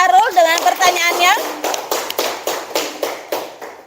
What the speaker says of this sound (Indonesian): tepuk tangan dulu untuk Sarul dengan pertanyaannya.